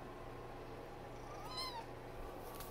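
A kitten gives a single high, drawn-out meow near the middle, close and clear over a steady low room hum, with no talking.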